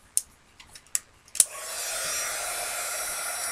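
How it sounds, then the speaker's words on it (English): A heat gun drying paint on a decorated craft tag starts after a few sharp clicks and taps, then blows a steady, close airy whoosh that continues to the end. "I'm going to dry that with just the heat gun."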